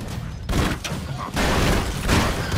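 Broforce-style video game gunfire, dense bursts of rapid shots and booming impacts stacking into a loud, cluttered barrage with short gaps between volleys.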